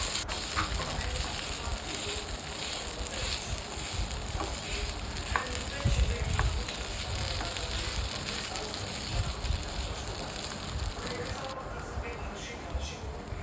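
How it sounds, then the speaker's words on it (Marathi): Cut potatoes fry and get mixed in a hot pan, a steady close sizzle with occasional scraping stirs, continuous throughout. "आता हे कापलेले बटाटे ह्यामध्ये टाकून आपल्याला चांगले एकजीव करून घ्यायचे"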